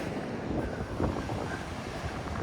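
Ocean surf washes onto a beach at a not very high tide along the Cape to Cape coast, a continuous rushing wash mixed with gusty wind buffeting the microphone.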